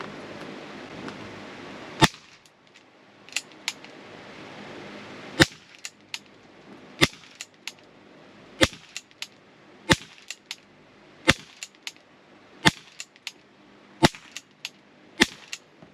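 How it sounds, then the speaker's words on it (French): Shots from an Umarex CPS pistol with PVC finish during a target shooting session: sharp, loud reports fired one at a time at irregular intervals, about a dozen in all, with quiet handling noise between them. "on enclenche le chargeur et on est parti pour cette petite séance de tir"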